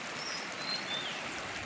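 A village river flows over rocks outdoors, making a steady broadband rush of water with no pauses; faint thin whistles sit above the continuous wash.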